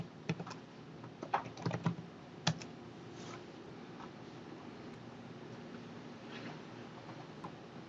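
Computer keyboard typing a password, a quick burst of scattered close key clicks early on, then quieter background hum with no talk.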